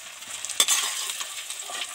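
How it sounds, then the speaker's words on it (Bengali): Paneer frying with salt in butter and oil in a pan gives a steady soft sizzle, with a brief louder stir or clink of a utensil near the start. "লবণ দিয়ে বাটার দিয়ে তেল দিয়ে তো ভালো করে ভেজে নিলাম"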